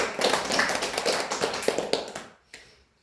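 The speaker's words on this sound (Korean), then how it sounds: "하나님께 영광의 박수 올려드립니다." A church congregation claps together during a worship service, a dense burst of applause that fills the room for about two seconds and then cuts off abruptly, leaving a brief faint tail.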